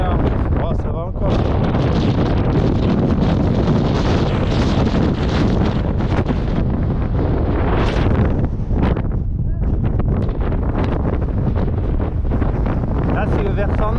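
Strong gusting wind roars and buffets against the microphone on the summit of Mont Ventoux, loud and constant throughout, with a voice partly buried beneath it.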